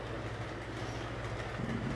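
A model train pushes hoppers up a steep incline on a layout interchange, giving a steady, continuous rumble with faint clicking of the wheels and no voices.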